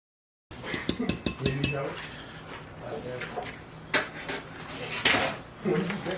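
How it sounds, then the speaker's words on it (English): Korean barbecue sauce for jackfruit being mixed in a bowl, with close clinking of utensil against dish in quick bursts, then scraping and a few louder knocks. "just give it a little mix"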